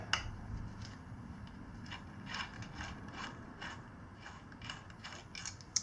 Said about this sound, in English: Just going to take one bolt off at a time.